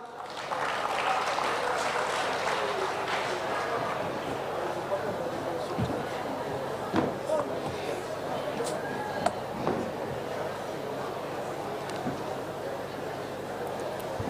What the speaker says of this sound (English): Round of applause, Speaker.